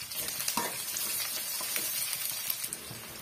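Onions and crushed garlic sautéing in oil over a high flame, a continuous moderate sizzle broken by a few soft stirring scrapes and light clinks, close but fairly quiet.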